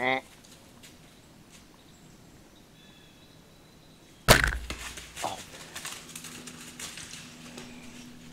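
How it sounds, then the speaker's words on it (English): An arrow is released from a bow at a deer in the Kentucky woods: a quiet outdoor stretch with faint birds breaks into a sudden sharp snap and thud, followed by rustling and crackling movement. "right when I released the arrow"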